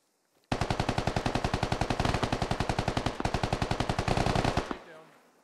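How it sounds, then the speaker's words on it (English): Automatic gunfire in the military shooter game Squad: a loud, rapid, unbroken stream of shots that lasts about four seconds before stopping abruptly, followed by a brief tail. "There's too much gunfire happening here."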